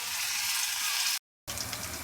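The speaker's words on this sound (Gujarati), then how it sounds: "તો તેલ ગરમ થઈ ગયું છે અને તળી દઈશું" A steady, close hissing sizzle of food frying in hot oil over a medium flame, cut by a brief moment of silence before the sizzling resumes.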